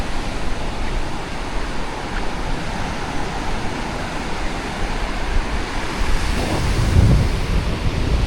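Ocean waves on a long sandy beach in Cambodia, a continuous loud roar of surf mixed with heavy wind rumble against the microphone, swelling slightly near the end.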